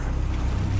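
The Reef Ripper sea vehicle from Skylanders SuperChargers gives a brief, steady, low watery engine rumble with a wash of spray and wind. It stays at an even loudness for under a second.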